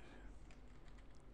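Quiet, rapid keystrokes on a computer keyboard while entering a command in an SSH client, soft and close, a short run of irregular taps.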